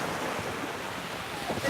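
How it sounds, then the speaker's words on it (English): Strong night wind blows outdoors, a continuous close roar buffeting the microphone with a surf-like rush throughout, no voices heard. "It's also extremely windy down here tonight, so that's not helping either."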